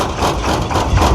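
Engine of a water well drilling rig running steadily at close range, a dense low rumble with rough mechanical clatter and knocking throughout.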